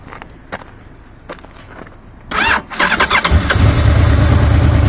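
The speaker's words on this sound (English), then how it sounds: "You don't need the clutch in to start it." A 2015 Honda VFR800F motorcycle starts up: after a few faint clicks, the starter whirs briefly, the engine catches with a burst of uneven firing pulses, then settles into a steady, close, loud running note, with no talking.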